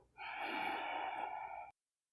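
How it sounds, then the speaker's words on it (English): A slow, steady exhale during coherent breathing practice, a close, breathy whoosh through the nose lasting about a second and a half, then cutting off into silence. "And then on my exhale"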